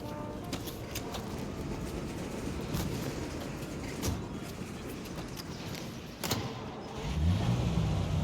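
A car drives in the video game Mafia Definitive Edition, its engine holding a steady mid-pitched hum that swells louder near the end.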